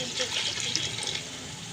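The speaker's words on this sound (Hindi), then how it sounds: "तो अब थोड़ा सा पानी डालेंगे।" Water being poured into a pot of biryani masala while it cooks, a steady liquid splashing and trickling that runs continuously for under two seconds at moderate loudness.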